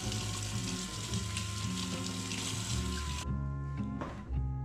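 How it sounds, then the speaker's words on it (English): Tap water runs steadily while hands are washed under it before baking apple muffins, a close continuous splashing that cuts off partway, leaving brief trickles and drips. "we need to wash our hands"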